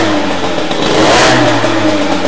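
Freshly fitted Airsal T6 50cc cylinder kit on a small two-stroke engine revving hard during its first run-in, a loud continuous buzzing roar that swells and holds steady throughout.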